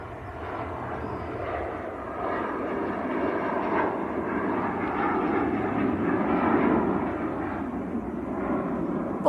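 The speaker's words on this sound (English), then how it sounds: "Loganair Embraer just about to lift off." A Loganair Embraer airliner lifts off at Manchester Airport, its engine roar building steadily and growing louder toward the end, heard alone without talk.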